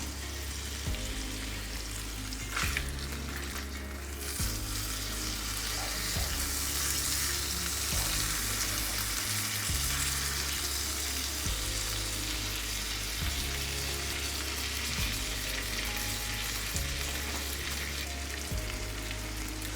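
Teriyaki salmon sizzles steadily in a frying pan with a continuous loud hiss, a few soft knocks and scrapes marking the fish being turned over.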